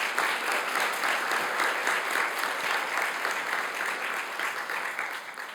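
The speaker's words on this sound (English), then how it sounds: "Let's do another round of applause" Sustained applause from a conference audience at a cancer center event, dense and steady clapping throughout, tapering slightly at the end.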